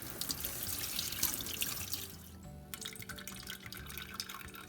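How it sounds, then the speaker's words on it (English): Tap water runs steadily over a fine reusable maple syrup filter being rinsed in a sink, a close, continuous splashing flow that briefly shifts in tone midway. "And we'll just keep rinsing out this filter."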